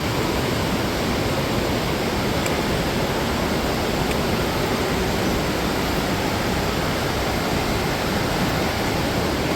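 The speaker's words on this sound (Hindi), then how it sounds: "और ये है कुरपान रिवर, इसका फ्लो देखिए बहुत तेज।" The fast-flowing Kurpan river on the Shrikhand Mahadev trek rushes with a dense, constant roar of white water. It stays loud and even all the way through, with no voices over it.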